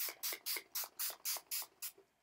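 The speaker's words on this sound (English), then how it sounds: "I always spray a little bit of Mario Badescu." A Mario Badescu facial setting spray bottle is pumped eight times in a quick even rhythm, each a short close misty hiss, with quiet pauses between.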